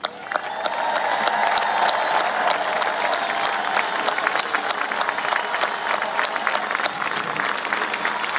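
An audience applauds and cheers at a Poor People's Campaign rally, dense sustained clapping for several seconds with some voices rising within the crowd noise.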